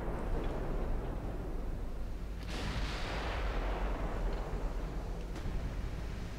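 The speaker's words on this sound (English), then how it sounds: "No, just keep shooting that ship." Naval guns fire at an enemy ship in the naval warfare game Ultimate Admiral Dreadnoughts, a dense continuous rumble of heavy gunfire and distant booms with a couple of sharper blasts standing out.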